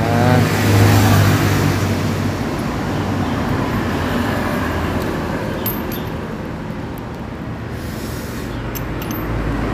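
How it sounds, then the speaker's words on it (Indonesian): A motorcycle engine with a knocking, detonation-like rattle on sudden throttle and at top speed revs loudly and close. The rev peaks at the start, then settles into a sustained, slightly fading drone. "permasalahan dari motor ini, kenapa dia itu bunyi detok-detok."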